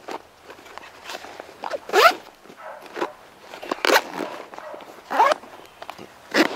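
Zippers on a Full Forge Gear Hurricane backpack's pockets are pulled in short, sharp rasps, about five separate close zips spaced a second or so apart, with light handling rustle between them.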